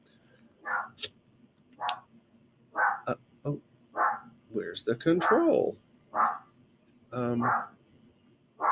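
A dog barks repeatedly at a package delivery, several loud, close barks in uneven bursts, mixed with a person talking.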